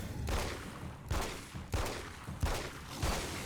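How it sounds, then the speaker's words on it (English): Repeated gunshots from the Alan Wake: American Nightmare video game, five sharp bursts roughly every two-thirds of a second with short decaying tails over a steady game background, no talk. "The gun sounds a lot snappier, yeah."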